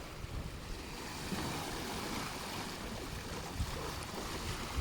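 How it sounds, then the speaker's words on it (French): Steady rush of ocean waves washing around a moving sailboat, mixed with wind buffeting the microphone, continuous and fairly loud with no voices. "le bruit des vagues"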